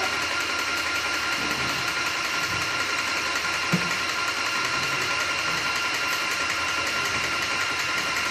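An airless paint sprayer pumps windshield washer fluid through its system in a continuous, even mechanical drone with a faint high whine and one small knock partway through.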